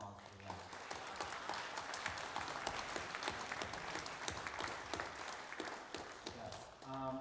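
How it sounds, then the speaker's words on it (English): Concert audience applauding at a Chemeketa Jazz Ensemble spring performance, honoring a retiring director, a full, steady round of clapping from a hall crowd lasting several seconds, with faint instrument tones at the start and end. "let's give him a round of applause for that."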